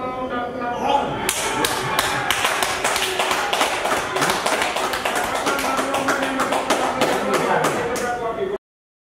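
Sustained, dense clapping follows the court sentencing of Richard Eliezer to one and a half years in prison, with a coordinating minister among those applauding. The sharp hand claps run thick and steady throughout at close range.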